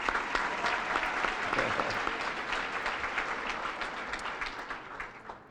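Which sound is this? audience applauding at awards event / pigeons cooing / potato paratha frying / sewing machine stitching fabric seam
audience applauding at awards event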